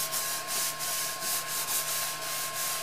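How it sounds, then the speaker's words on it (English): A cloth dampened with rubbing alcohol wipes across a 3D printer's print bed, giving a steady, fairly close rubbing hiss with gentle rhythmic strokes and no talking. "just give the surface a quick clean"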